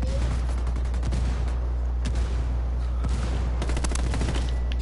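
Rapid gunfire in Ghost Recon ranked 4v4 player-versus-player combat, dense bursts of shots crackling over a constant low rumble, with volleys clustered near and far throughout.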